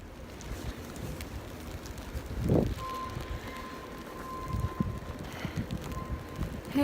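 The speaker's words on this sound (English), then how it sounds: "so I'm out here in the blizzard. It's pretty cold and windy." Blizzard wind in Boston roars outdoors as steady rough buffeting against the microphone, swelling into a gust partway through, with no one talking.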